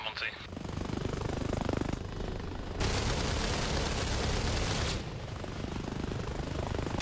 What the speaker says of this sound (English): Gonna drop some mortars in Monty.